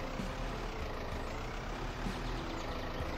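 Steady engine rumble of a vehicle being driven in the Withstand survival game, a continuous broadband drone holding at an even level throughout with no talk over it.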